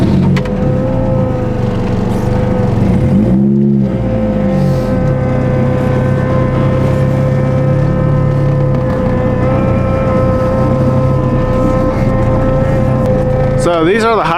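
A Toyota Hilux truck rolls down a driveway in winter with a loud, steady engine drone and road rumble close inside the cab, with a brief engine swell partway through.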